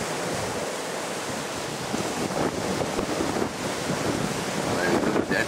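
Strong wind whips through trees, including a large black walnut, as a steady, loud roar buffets the microphone, gusting harder toward the end.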